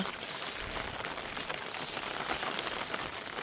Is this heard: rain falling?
yes